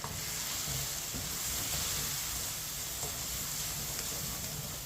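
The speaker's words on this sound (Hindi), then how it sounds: "मसालों को मिक्स करके आधे मिनट के लिए पका लेंगे।" Spices such as red chili powder and turmeric sizzle and fry in a pan while being stirred, a steady close hiss throughout with faint scraping.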